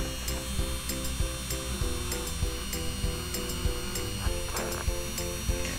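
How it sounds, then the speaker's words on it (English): A Dremel rotary tool carving a plastic Blythe doll faceplate, a steady high whine with a repeating grinding pulse as the bit touches the plastic, close and continuous without talk. "Notice how I use the tip and the side of the Dremel bit."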